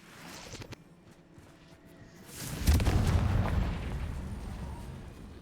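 A Confringo blasting spell going off in Hogwarts Legacy: a few pops, then a loud rumbling explosion that swells and slowly fades, with no talk over it.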